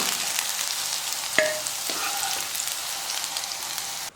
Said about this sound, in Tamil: அந்த தண்ணியெல்லாம் வத்துற அளவுக்கு நல்லா வதக்கிக்கணும்